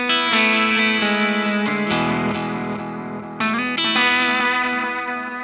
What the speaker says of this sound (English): Timeline has a lot of other really cool delay sounds